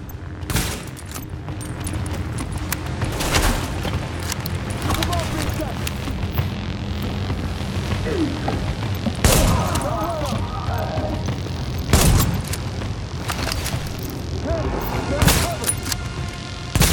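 Gunfire in the video game The Division: sharp shots and short bursts crack out at irregular intervals, loud and close, over a steady game background.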